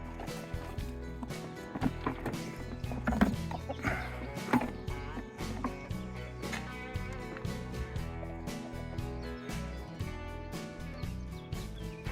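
Farm chickens cluck continuously at close range, overlapping busy bursts of clucks and squawks with no break, and no voices over them.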